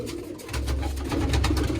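Low, throaty pigeon cooing repeats in soft rolling bursts close by, with no talking, from pigeons at a loft in Punjab.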